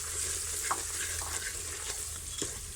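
Onion and spice masala fries and is stirred in a pan for chicken sobat, a steady close sizzle with occasional scraping strokes of the spoon throughout.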